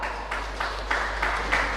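Audience applauding sponsors at a provincial Qur'an competition for school students, a room of clapping that swells in short bursts over a low steady hum.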